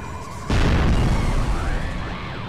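A huge explosion in the Sonic Heroes video game during a boss battle, a sudden deep boom that bursts in and then rumbles on heavily with swooping tones over it.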